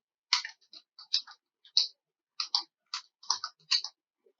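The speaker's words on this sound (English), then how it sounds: "just go ahead and type in your name" Someone types a name on a computer keyboard, producing a dozen or so crisp, close keystroke clicks in quick, uneven clusters against silence.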